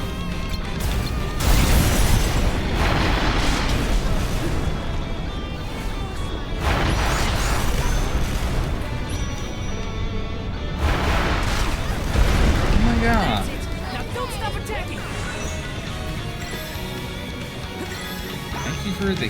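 Cannon fire in a Visions of Mana battle: heavy, repeated booming blasts and crashes come in waves over a dense layer of game sound, with voices.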